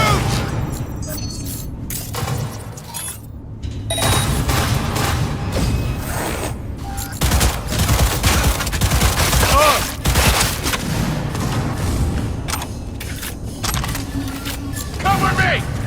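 A loud, busy firefight in Cyberpunk 2077 with gunfire, blasts and cracks filling most of the clip, dense and near, with game voices shouting over it.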